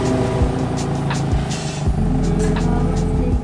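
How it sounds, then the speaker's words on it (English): Nissan Silvia engine running steadily with a low rumbling drone and rising rev swells from inside the car, loud and continuous. "Taking the cool car today."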